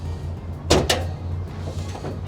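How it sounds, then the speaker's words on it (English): Hood release on a 1967 Plymouth Belvedere big block, two quick close clunks in fast succession, then a quieter rumbling lull with faint light knocks. "Let me pop the hood real quick."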